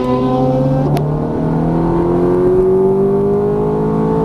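A Ferrari F430 at full throttle on a race track, its engine pitch climbing smoothly and steadily in a loud, sustained rev from close by, with no talk.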